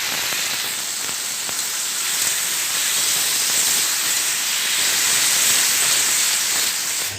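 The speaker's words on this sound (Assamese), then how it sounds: "এফালে এই ভাজি বেঙেনা ভাজিছোঁ" Eggplant slices frying in hot oil in a pan, making a loud, continuous hissing sizzle that holds steady throughout without pauses or voices.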